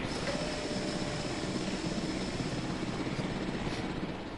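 A helicopter in the video game Jurassic World Evolution flies with a steady, dense rotor thrum and engine whine, continuous and fairly loud with no talk.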